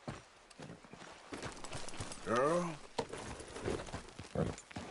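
Horse hooves clip-clop steadily in the video game Red Dead Redemption 2, mixed under game music and ambience, with a short whinny-like call in the middle and people talking over it.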